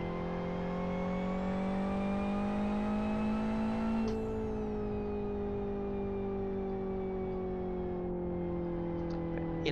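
A race car engine in the driving game Live For Speed screams toward redline, its steady rising whine dipping briefly at a gear change before climbing again, loud and close throughout with no talking.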